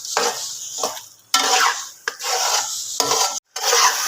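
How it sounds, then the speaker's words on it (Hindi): Pumpkin halwa stirred and roasted in ghee in a pan, heard as repeated close, loud scraping and rasping strokes of a spoon against the pan, broken by brief pauses between strokes. "घी डालने के बाद इसको अच्छे तरीके से आपने इस तरीके से मिक्स करना।"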